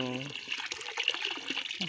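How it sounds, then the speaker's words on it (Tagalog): Water from a mountain spring pouring steadily in a short splashing, gurgling burst, close and fairly faint, with someone talking over it. "So walay hunong ni nga tubod gikan diha."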